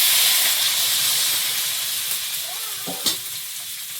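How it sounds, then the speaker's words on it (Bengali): Hot oil sizzling with frying vegetables in a home kitchen pan, a steady hiss throughout with a brief louder burst as water is poured in near the end; no talking. "এবারে জল দেবো।"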